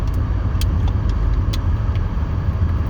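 Car cabin while driving, a steady low road rumble and engine hum filling the interior, loud and continuous, with a few faint clicks and no talk.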